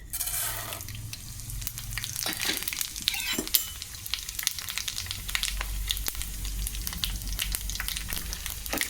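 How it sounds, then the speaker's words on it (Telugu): Seeds crackle and sizzle in hot oil in a pan, a dense close spattering fry with sharp pops and occasional stirring clinks, steady throughout. "ఇదిగోండి నూనె కాగింది. ఫస్ట్ అండి ఈ తిరమూత గింజలు వేద్దామండి."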